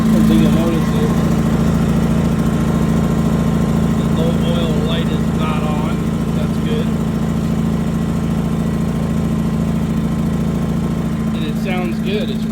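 A Predator 2000 inverter generator engine idles with a steady, even hum that runs unbroken and loud throughout, with faint higher chirps and clatter over it.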